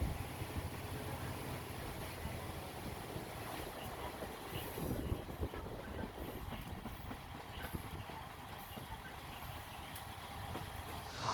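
Steady rumble of a countryside train rolling along its tracks in Hokkaido, Japan, a continuous low roar with wind noise over it, no talking.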